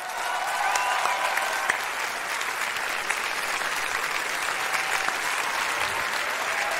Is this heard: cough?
no